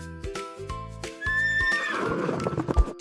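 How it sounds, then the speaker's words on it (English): A horse whinnies loudly and clearly, a rising-then-falling neigh that stands alone with a few hoof-like thumps, near and prominent. "H is for horse."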